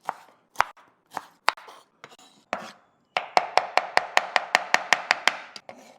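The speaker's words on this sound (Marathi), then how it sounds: "आता एवढं पायनॅपल घ्यायचं आणि त्यांना बारीक बारीक पीसेसमध्ये कापून टाकायचं" A knife chops pineapple into small pieces on a board, starting with a few spaced strikes and then speeding into a quick, steady run of loud, close cuts.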